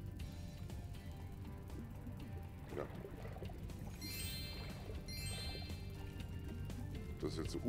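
Water rushes in and fills a space in the Spyro Reignited Trilogy video game, a steady pouring wash with light tinkling, dripping accents and low rumbling game ambience underneath.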